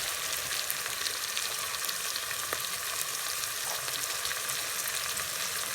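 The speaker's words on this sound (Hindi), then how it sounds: "एक चम्मच हल्दी पाउडर डाल रहे हैं। इसकी अच्छे से बुनाई कर लेते हैं।" Onions with ginger-garlic paste and turmeric powder frying in a pan, a steady soft sizzle with faint crackles throughout, quiet and even with no voices.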